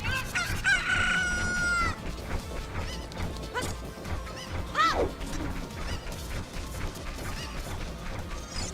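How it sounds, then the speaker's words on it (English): A chicken in an Archipelago randomizer video game crows and clucks loudly at first, then a sharp crash and more clucking follow amid busy game noise. "Give me a chicken."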